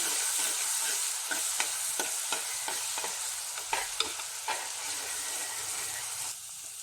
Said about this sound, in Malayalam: ഇതിലേക്ക് ചതച്ച് വച്ചിരിക്കുന്ന ഇഞ്ചി വെളുത്തുള്ളി ചെറിയ ഉള്ളി അതിടാം ഒന്ന് വഴറ്റി കൊടുക്കാം